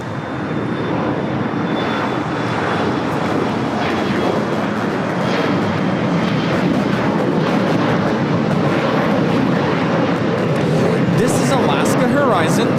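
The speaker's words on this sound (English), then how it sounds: "Horizon 2037 taking off to Spokane on the E175" Embraer E175 jet on Horizon flight 2037 taking off at LAX: a loud, broad roar of jet engines that stays constant throughout, with a faint high whine running above it and people talking underneath.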